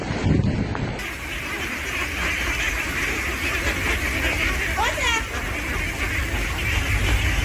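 Ducks quack in a noisy bunch over steady wind and rushing background noise, calls overlapping continuously with a few brief chirpy notes.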